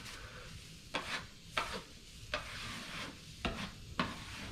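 A drywall knife sweeps joint compound across a repaired wall crack with light to medium pressure, giving about six separate scraping strokes, each a short bright swish with quiet pauses between them.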